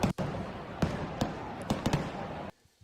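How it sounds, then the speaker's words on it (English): Fireworks burst over a baseball stadium during a Phillies game, a series of sharp cracks and pops spaced irregularly over crowd noise and a steady broadband wash, then cutting off abruptly to near quiet. "Fireworks go off for the Phils."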